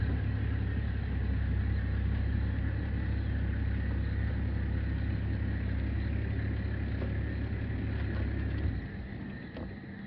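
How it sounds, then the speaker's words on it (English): A safari game drive vehicle idles nearby with a steady low engine rumble that goes on for most of the stretch, then drops away near the end. "Got one of the game drive vehicles with us."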